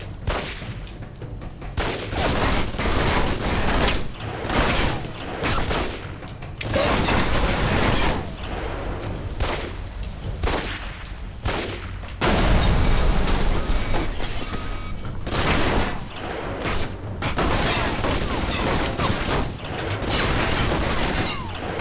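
Gunfire and sniping in the video game Alpha Protocol: dense bursts of shots and rapid automatic fire, loud and close, in repeated volleys with short gaps between them and no talk over the shooting.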